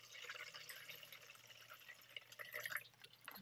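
Water is poured into a cat water fountain, a bright splashing trickle with dripping that swells toward the end, fairly close and heard alone.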